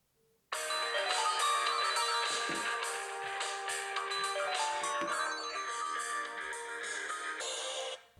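An incoming call ringing on a Fritz!Box 7590 connected DECT phone, a loud melodic electronic ringtone playing continuously for several seconds, close and alone, then cut off.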